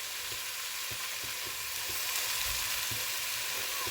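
Spices with turmeric and garlic ginger paste fry in oil for daal, giving a soft continuous sizzle with faint scraping stirs, steady and fairly quiet throughout.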